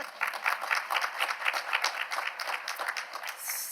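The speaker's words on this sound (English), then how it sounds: "Juan Jose, go ahead and clap." Audience clapping during a conference opening session, a sustained, even burst of many hands applauding at fair loudness for several seconds, with no talking over it.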